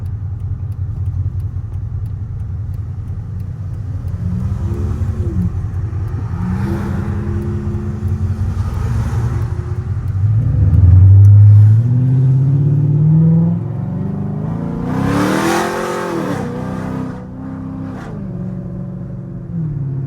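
A modified Chrysler 300C drives on an autumn road, its engine rumbling steadily up close, then revving hard in a couple of rising pulls before settling back to a low drone.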